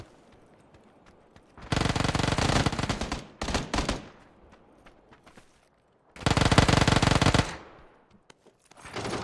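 Two long bursts of automatic gunfire from the PUBG battle royale game, loud and sustained, with a few short shots between them and quiet gaps.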